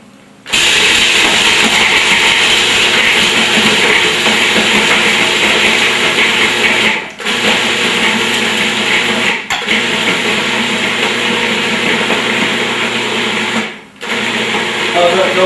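Pepper, salt and Parmesan being ground produce a loud, steady mechanical whirring drone that runs continuously for many seconds, broken only by a few brief dips where the grinding pauses and restarts.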